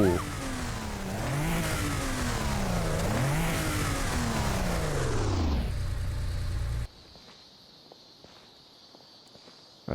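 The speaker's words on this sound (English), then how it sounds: "Porsches in this game sound crazy." A Porsche in Genshin Impact revs hard, its engine pitch sweeping up and down loudly for several seconds before cutting off abruptly, leaving faint ticking and quiet game ambience.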